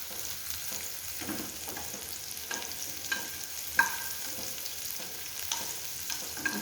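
Shallots browning in a pan for Karkidaka medicinal kanji sizzle softly and steadily at low volume, with intermittent light stirring scrapes and a single clink, and no one speaking.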